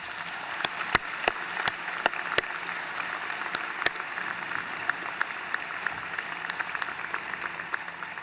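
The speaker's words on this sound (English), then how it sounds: "may I ask you to join me in a round of applause for the faculty and staff who have supported you in getting to this moment today" A convocation audience gives sparse, scattered applause for faculty and staff: separate sharp claps spread across a large hall, fairly quiet and uneven throughout.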